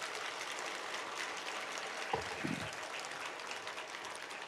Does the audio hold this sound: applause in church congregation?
yes